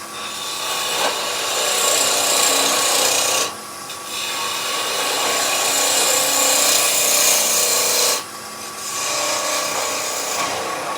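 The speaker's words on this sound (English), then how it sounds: "We're just using the tip of the skew and slicing those end grain fibres." A skew chisel tip slices end grain on spinning wood on a lathe, giving a loud, steady rasping hiss in two long passes separated by brief pauses, close and without speech.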